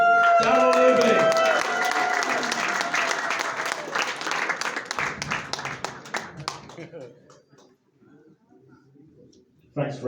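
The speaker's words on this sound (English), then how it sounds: "So let's give him a big round of applause." Applause from a business networking audience in London welcoming a guest speaker, starting full and dense with voices and cheering mixed in, then thinning to scattered claps that fade into near silence before a final sound at the end.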